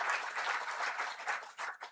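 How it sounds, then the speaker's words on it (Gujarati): An audience at a sound healing talk claps loudly for Aniben. The applause is dense and continuous, then thins into scattered claps at the end, with no voices over it. "ફરીવાર અનિબેનને જોરદાર તાળીથી બતાવી."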